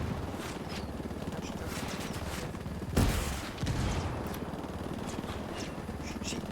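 Dense video-game gunfire from a shooter rattles continuously in rapid bursts, with a louder sharp volley in the middle, loud and close throughout with no clear talk over it.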